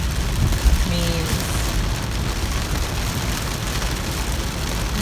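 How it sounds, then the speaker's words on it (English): Steady rain pours down at an outdoor mall, a dense, even hiss that persists throughout, with a low thump near the start and no voices. "this rain is supposed to continue"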